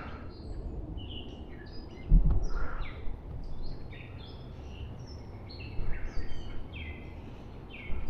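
A gray catbird sings in a New England state forest, sending a run of scattered chirps and squeaky phrases, with a brief thump near the start and light background rustle.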